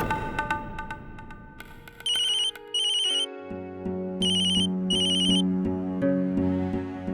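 An electronic phone ringtone plays a looping melodic tune with bright repeating beeps, clear and steady, no voices.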